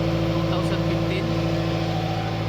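A running 2015 Bobcat engine drones steadily at close range, a constant low hum with layered harmonic tones holding level throughout, with a voice speaking faintly over it.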